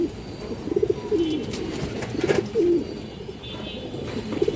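A silver male pigeon coos in several soft, rolling bursts, close by, with a steady low background hum and no talking.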